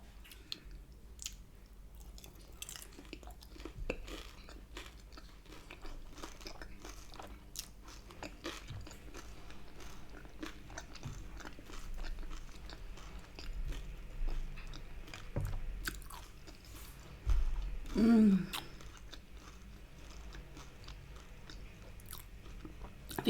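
Crispy beef with Cantonese sauce from a Chinese takeaway is chewed and bitten close to the mic, giving quiet repeated crunches and soft wet mouth sounds, with one louder bite near the end.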